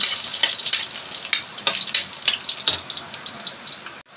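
Garlic fries in a pan with a steady crackling sizzle and bursts of popping, close and fairly loud, cut off abruptly near the end, with no voices.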